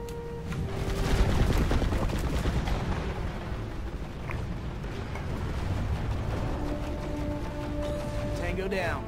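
Rapid bursts of automatic weapon fire and explosive booms in the online shooter Planetside 2, dense and continuous, mixed with rumbling blasts throughout the firefight.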